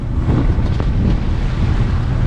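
Steady, loud wind buffeting the microphone with a low roar aboard a sailing boat in the Balearic Islands, a 7-knot headwind, continuous throughout with no voices.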